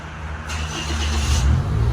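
A Toyota Vios starts by push button after an aftermarket push-start kit install: a brief starter crank gives way to the engine catching and settling into a rising, steady idle, close and fairly loud with no talk.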